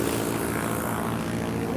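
Propeller airplanes carrying elephant census participants run their engines, a loud steady drone with a low rumbling hum and broad roar that holds constant throughout, close by and with no voices.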